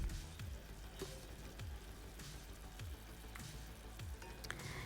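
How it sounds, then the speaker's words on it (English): Jerk chicken citrus BBQ sauce with brown sugar sizzling in a pan, a soft steady fizz broken by quiet, regular spoon stirs. "Give that a quick stir."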